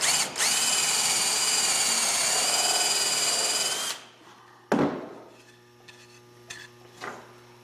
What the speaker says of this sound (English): Now I'm going to drill all the way through with a 7/16 bit.